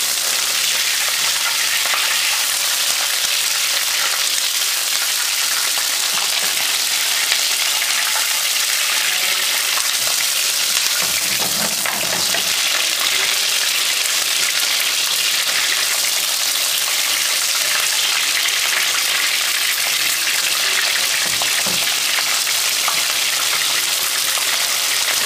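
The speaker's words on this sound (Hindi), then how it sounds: "चिकन सारा फ्राई कर लिया" Chicken pieces fry in a pan of hot oil for chicken Schezwan, giving a continuous, dense hiss and crackle that holds steady for a long stretch, with occasional louder spatters and no talking.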